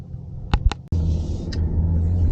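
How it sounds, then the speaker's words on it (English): Inside a 2023 Jeep Grand Wagoneer on the road, a steady low tire and engine rumble fills the cabin, with a few short clicks and a brief sharp knock near the start. "So driving the 2023 Jeep Grand Wagoneer"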